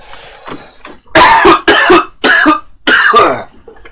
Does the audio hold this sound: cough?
yes